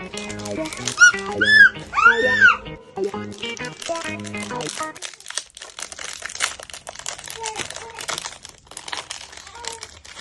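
A biscuit packet is torn open and crinkled by hand, its crisp plastic rustling and crackling up close, with a musical tone and voices heard near the start.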